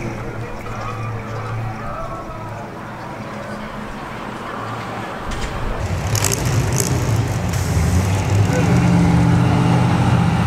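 Trucks frying their tires in a burnout at a Corvette cruise, a rough roaring engine and tire noise that swells louder in the second half, heard from a short distance amid people talking.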